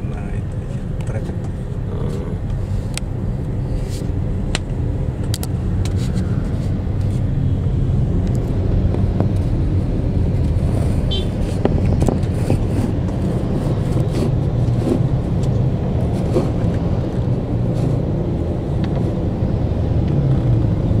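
Steady city road traffic in Surabaya, a continuous low rumble of cars and engines passing nearby, with voices talking over it throughout.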